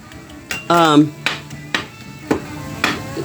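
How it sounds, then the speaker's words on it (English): A metal spatula chops rib eye steak for a cheesesteak on a flat griddle, giving a series of sharp, close metallic clanks and scrapes at an uneven pace, with faint voice in the background. "just chopping that up right out on that griddle"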